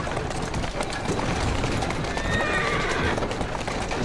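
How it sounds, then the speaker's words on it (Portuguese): A horse in the video game Assassin's Creed Syndicate whinnies while its hooves clip-clop steadily beneath, close and clear over street ambience. "Quem é um bom cavalo?"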